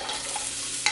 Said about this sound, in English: I love the sizzle sound of onions and olive oil.